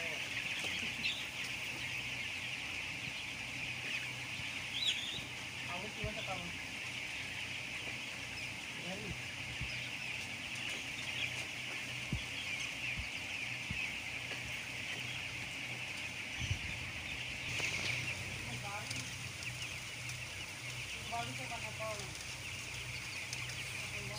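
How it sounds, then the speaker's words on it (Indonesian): Thirteen-day-old broiler chickens fill a closed poultry house of about 52,000 birds with a steady, dense chorus of clucks and chirps over a constant hum of ventilation fans, scattered louder calls standing out nearby. "ayam broiler di umurnya yang ke-13"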